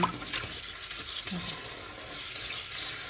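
Running water rinsing salted, pickled vegetables, a continuous close splashing wash at moderate level with no speech.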